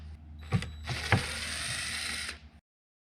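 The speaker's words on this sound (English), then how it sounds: "take the screws out of the tapering jig" A power driver whirs and ratchets as screws back out of a wooden tapering jig, a short buzzing run with a couple of sharp clicks, close and alone before cutting off.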